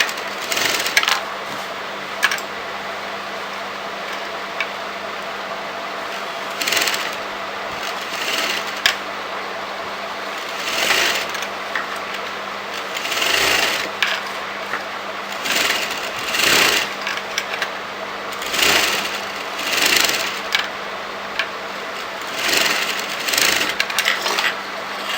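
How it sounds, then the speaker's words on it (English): A sewing machine stitching fabric for a kurti shawl collar, running in repeated short bursts of rapid mechanical whirring with pauses between, close and clear. "then you're going to sew it together"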